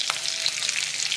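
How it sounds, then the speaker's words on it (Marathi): Eggplant pieces fry in hot oil for a Maharashtrian vangyachi bhaji, giving a close, steady crackling sizzle with scattered pops and no voices. "तेल तापल्यावर वांगे सोडायचे."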